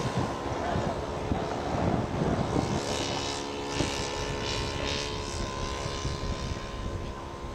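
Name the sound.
scale model airplane flying with propeller engine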